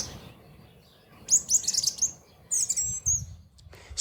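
Songbirds, blackbirds and thrushes, singing in spring. Bright phrases of chirps and warbles come in a few separate bursts, with quiet pauses between them and a faint low background.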